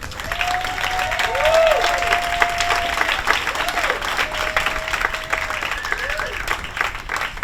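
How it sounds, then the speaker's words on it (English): Steady, fairly loud audience applause fills a hall at a Hollywood Trailblazer award ceremony, continuing for the whole stretch while voices rise over it. "We should applaud."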